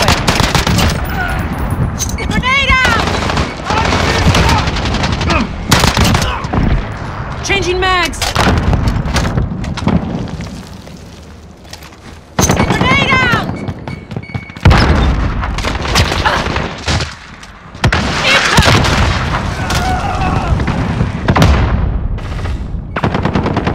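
Dense, loud gunfire with heavy booming blasts and a grenade explosion in the shooter game Modern Warfare, bursts of rifle shots packed tightly with only a short lull midway, faint game voices buried underneath.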